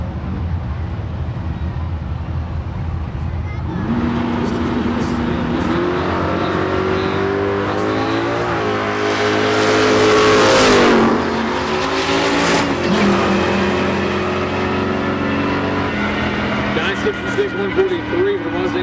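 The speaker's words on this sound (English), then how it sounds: "Here comes the Corvette over on the right-hand side." A Mustang, a Viper and a Corvette drag race down a nitro drag strip. The engines roar and rise in pitch as the cars accelerate, building to a loud, close pass before fading away. An announcer talks over the engines throughout.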